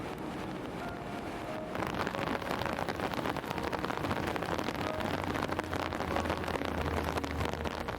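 Steady rain falls in Pahalgam, Kashmir, a dense continuous hiss of drops on surfaces with some wind buffeting the microphone, growing heavier after the first couple of seconds and holding without talk.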